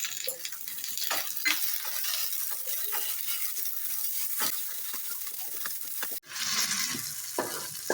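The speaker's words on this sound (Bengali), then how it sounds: "পেঁয়াজটা একটু হালকা লাল লাল হয়ে গেছে, এবারে দিয়ে দেবো টমেটোটা, আর দুটো কাঁচা লঙ্কাও দিয়ে দেবো।" Onion, tomato and green chillies frying in a pan for a fish curry, a steady hiss of sizzling with occasional scrapes and stirring clatters, close and fairly quiet, with one brief break near the end.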